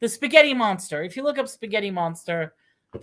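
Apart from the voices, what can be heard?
No distinct noise like a dog, phone or traffic.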